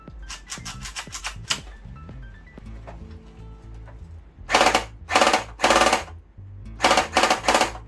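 An FN P90 gel ball blaster is fired left-handed, first with quick mechanical clicks and rattles, then several loud, rapid full-auto bursts with short pauses between them.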